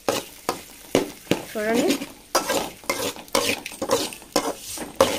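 Egg rice mixture sizzles in a pan for spicy egg rice while a utensil scrapes and stirs in repeated sharp strokes, with someone speaking briefly over the cooking.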